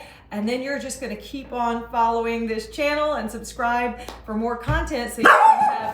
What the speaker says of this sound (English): Sorry about the dogs. They will be appearing in a lot of my videos.